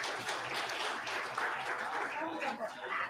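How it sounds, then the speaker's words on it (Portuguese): Applause rises from a crowd at a political event, clapping mixed with voices and some laughter, lively and fairly close for a few seconds. "Uma salva de palmas para Alexandre de Moraes."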